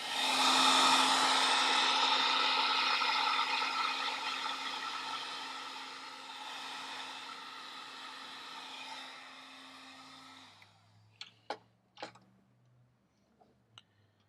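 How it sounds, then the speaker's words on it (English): A heat gun blows steadily with a loud whooshing hiss and faint whine while shrinking tubing on wiring for an IH 1086 tractor, then shuts off and winds down, followed by a few small clicks and taps. "And then got the heat gun here."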